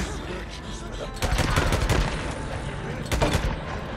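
Gunfire in the PC game Days Gone: a dense spray of rapid shots swells at about one second, holds, then flares again near the end over a constant rumbling game background.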